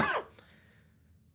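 A single short, sharp cough from a man on a sports talk broadcast, close to the microphone, followed by quiet.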